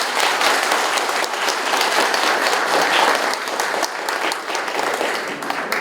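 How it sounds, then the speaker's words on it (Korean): Loud, sustained applause from an audience opening a security lecture in South Korea, dense continuous clapping filling the room without a break. "큰 박수로 시작하겠습니다."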